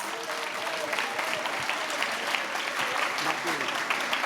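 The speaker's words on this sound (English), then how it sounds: "So a big clap for all of you and your neighbors." A crowd applauds steadily, a dense patter of many hands clapping close by, with a few scattered voices underneath.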